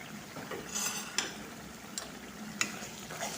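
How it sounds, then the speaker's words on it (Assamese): Meat masala, turmeric and salt stirred in a pot over heat: a soft continuous sizzle broken by several sharp scrapes and clinks of a metal spoon against the pot, close and moderately loud, with no speech. "সেইখিনি এতিয়া ভালদৰে লৰাই দিম।"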